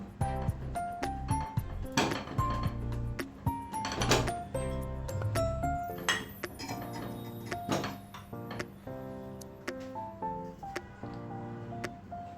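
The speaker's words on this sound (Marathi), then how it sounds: "त्या कुकरमध्ये साधारणतः मी अर्धा किलो बटाटे घेतले आहे ते घालत आहे" Half a kilo of potatoes dropped one after another into a metal pressure cooker, a series of clunks and ringing clinks at an uneven pace, close by, with no talking.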